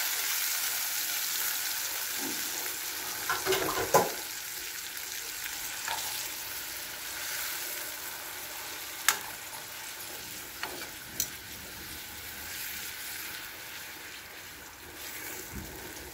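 Marinated pork chop frying in a pan with its marinade sauce, a steady, bright sizzle throughout, broken by a few sharp clinks and stirring knocks.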